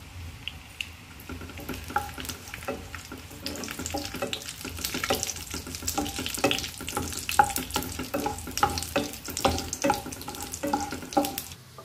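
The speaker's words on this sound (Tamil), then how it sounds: "இப்போ முந்திரி திராட்சை போட்டு நல்லா வணக்கி விட்டு எடுத்துக்கிறேங்க" Cashews and raisins fry in melted ghee in a kadai, with a steady soft sizzle under repeated scraping and stirring strokes of a spoon against the pan, close and moderately loud.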